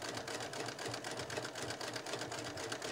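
A sewing machine stitches in the ditch along a mitered quilt binding, with a steady, rapid mechanical whir and needle rhythm running continuously up close for the whole stretch.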